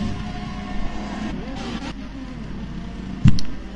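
Formula 1 cars racing at Imola in the F1 2021 game, engines droning steadily at mid distance, with a brief sharp knock near the end and a faint voice underneath.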